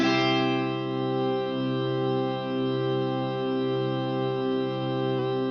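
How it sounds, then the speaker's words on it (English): A single C major barre chord rings out under a long, lush reverb, a steady sustained wash of tone with a slow wavering shimmer that holds almost unchanged throughout. "I just played a single major C bar chord and let the reverb like hold that"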